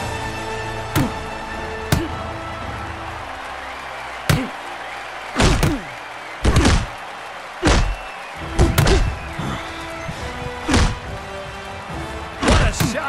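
Boxing gloves thudding into an opponent in a virtual-reality boxing match, a dozen sharp, heavy impacts landing at irregular intervals, some in quick pairs, loud and close over a quiet background.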